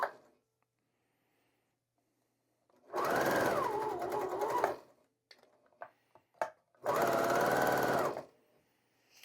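A sewing machine stitches a quarter-inch line on scrap fabric in two close bursts of steady whirring of a couple of seconds each, separated by quiet handling clicks and fabric shuffling.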